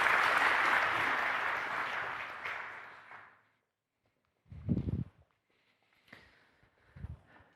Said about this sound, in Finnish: Annetaan aplodit vielä Saralle ja Helille tästä.